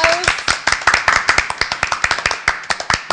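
At a live comedy show, audience members clap briskly and rhythmically, with sharp, evenly spaced claps about eight per second that are loud and close.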